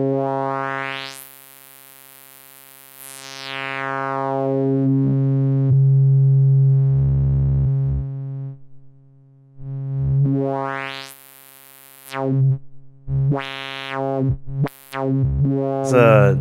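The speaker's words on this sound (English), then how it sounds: "kind of quacky vowel sound" A Roland System-500 505 dual VCF filter with added resonance sweeps a harmonically rich synth tone up and down, giving driven, quacky vowel-like formant shifts across several loud sustained and choppy notes.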